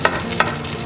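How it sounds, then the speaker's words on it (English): Rice being stir-fried in hot oil in a pan, with two brief scraping stirs of the spatula over a steady close sizzle. "Now we can put the rice in, let the oil get hot."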